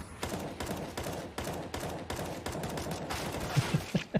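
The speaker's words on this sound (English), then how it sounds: "50 is feeling it right now with this AK." AK rifle fire in a competitive video game match crackles in a fast, dense volley of close shots, followed by a few separate heavier reports near the end, with no voices over it.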